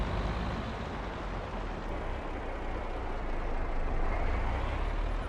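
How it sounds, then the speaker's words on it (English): A mower in the Farming Simulator 22 video game runs with a steady, dense mechanical drone that holds at an even loudness, with no voices or breaks. "But as you can see, mower's still going."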